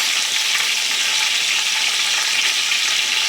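Vegetables fry in hot oil with a dense, even sizzle that crackles and spatters without a pause, loud and close.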